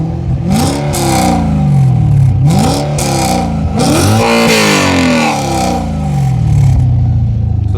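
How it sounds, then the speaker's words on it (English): An Audi RS4 with a new exhaust revs repeatedly, climbing to loud, rising howls and dropping back to idle several times; no talking. "Let me just give it a few revs so you can hear what it sounds like."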